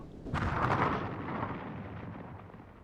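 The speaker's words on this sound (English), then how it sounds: "the new torpedo strikes below the waterline, where ships are most vulnerable" Torpedo striking a ship below the waterline: a single deep, muffled boom that swells quickly, then rumbles and fades over a couple of seconds, heard alone.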